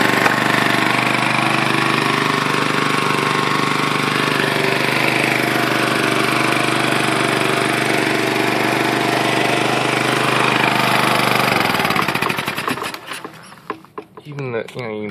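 A Honda portable generator with a gummed-up carburetor runs loud and steady for about twelve seconds, its dense engine drone continuous before cutting out and sputtering to a stop near the end.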